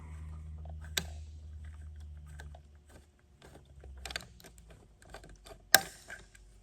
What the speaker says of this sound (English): hopefully this little screwdriver is all I need. Get right into this nose cone here.